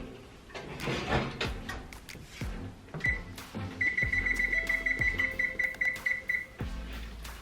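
An oven timer is set for cornbread baking at 400 degrees: a single beep, then a rapid, steady run of about fifteen bright electronic beeps, over kitchen clatter and low rumbling background noise.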